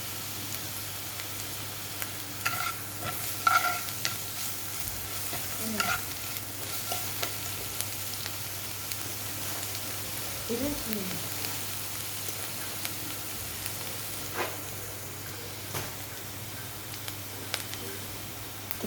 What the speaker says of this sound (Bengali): পেঁয়াজ রসুনটা একটু লাল লাল করে ভাজা হয়ে গেলে